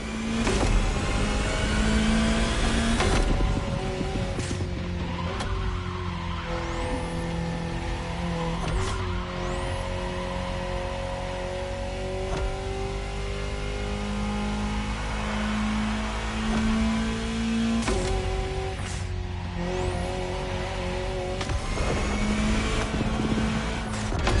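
Hydrogen-powered Alpine concept car driving past, a loud combustion engine note climbing through gears with repeated rising pitches and shifts, near and strong throughout.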